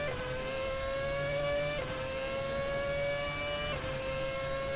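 Onboard a 2009 Formula 1 car lapping the Barcelona-Catalunya circuit during winter testing: a high, whining engine note that climbs steadily through the gears with quick shifts, loud and continuous, no talking.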